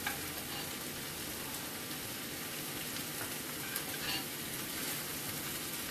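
Onions fry in grease in a pan, giving off a steady, dense sizzle and crackle that holds evenly throughout, close and fairly loud, with no talking.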